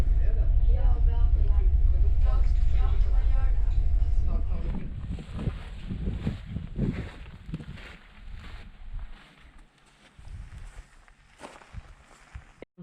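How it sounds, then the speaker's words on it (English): Noisy ride aboard a ferry crossing in Lofoten, Norway: a loud, steady rumble of engine and wind dominates at first, then drops to a quieter deck ambience with scattered footsteps and knocks. "We are on the ferry."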